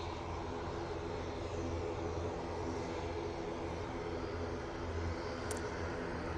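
A propeller aircraft at Manchester Airport, bound for Belfast, gives a steady, moderately loud engine drone with a low throbbing hum that holds evenly throughout, with no talk over it.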